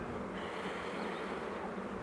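Bees buzzing in a continuous, even drone, fairly faint and steady throughout, with no talking and no other sounds.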